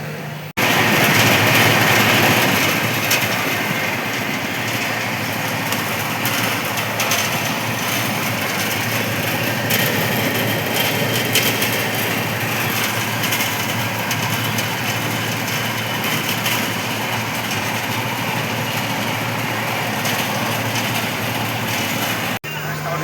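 A steady rumbling roar of a slowly moving passenger train, broad and continuous throughout, with a voice talking faintly under the noise.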